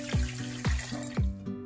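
Water is poured into a kadhai holding sugar for a cake syrup, sloshing and splashing up close in a few repeated pulses with a steady running sound between them.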